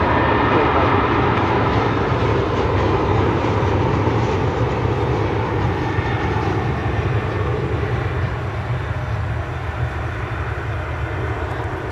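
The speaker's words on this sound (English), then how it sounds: "It's an American 737 coming in from San Antonio, Texas." An American Airlines Boeing 737 arriving from San Antonio, Texas makes a sustained jet engine roar with a steady low rumble that eases slightly toward the end, heard from a moderate distance.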